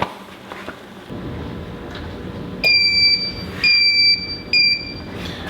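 A brewing timer on a Grainfather system beeps in three loud electronic bursts during a pale ale boil, the second and third closer together, over a low background hum.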